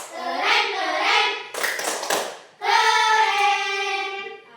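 Children doing a rhythmic group clapping cheer, tepuk keren: young voices chant together in unison, broken by a short burst of clapping in the middle before the chanting resumes.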